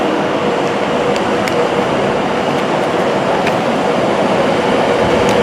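A CrossCountry train at Birmingham International station, a loud continuous rumble of the train running through the platform, with a steady roar and faint rail clicks throughout.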